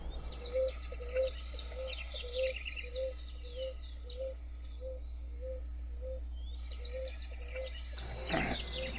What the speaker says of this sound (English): So we've had to live with that bird for so long.